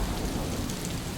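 Steady rain sound effect with a low rumble beneath, used in a read-aloud children's story about Abe Lincoln traveling country roads; dense, continuous hiss with no speech over it.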